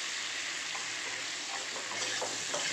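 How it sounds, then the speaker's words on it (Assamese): Egg and potato pieces sizzle in a hot pan with turmeric and salt, a steady close frying hiss with a few soft stirring scrapes near the end. "এতিয়া মই এইখিনি ভাজি আছোঁ"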